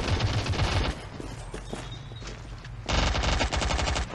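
Rapid bursts of automatic gunfire in the Modern Strike Online shooter game, loud and sustained, easing off briefly mid-clip before a heavy burst of firing resumes.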